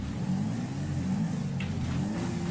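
A car engine in the GTA video game revs steadily at mid pitch, a continuous loud drone holding for a few seconds with slight swells, with no voices over it.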